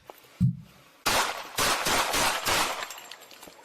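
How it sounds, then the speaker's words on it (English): Gunshots caught on police bodycam: a dull thump, then a rapid run of loud, close shots that tails off into lighter pops. "Shots fired! Shots fired!"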